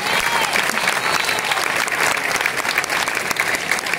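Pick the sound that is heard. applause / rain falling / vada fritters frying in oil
applause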